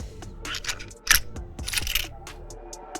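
Coins clinking and rattling together in a quick burst of bright metallic jingles, close and fairly loud, with a soft murmur of voices in the background.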